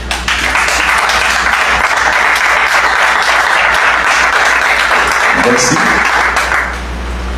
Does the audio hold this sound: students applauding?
yes